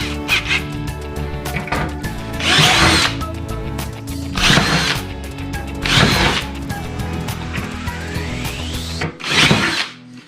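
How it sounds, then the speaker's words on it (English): Power drill with a slightly larger bit widening a hole during a trolling motor and battery install: four or five loud, close whining bursts of varying length with short gaps between them, one rising in pitch as it spins up. "Now we just get a slightly larger drill bit."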